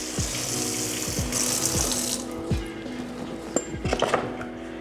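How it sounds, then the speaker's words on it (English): A cutting board rinsed under a running kitchen tap after chopping garlic, with a steady stream of water and several light clunks and knocks as the board is turned and moved in the sink, close by. "Just rinse my board."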